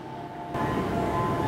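A rapid train arrives at a platform at Nishi-Funabashi station, a sudden swell of rolling rumble and wheel noise joining a steady humming tone and filling the platform, with no voices.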